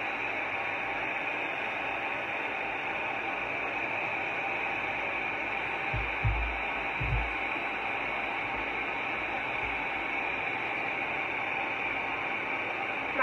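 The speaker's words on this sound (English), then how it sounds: "use my hair dryer and just quickly blow dry this so that I can put glaze on." A hair dryer blows on thrifted glass jars being dried for glaze, a steady close whooshing hiss that continues unchanged with two brief low bumps partway through.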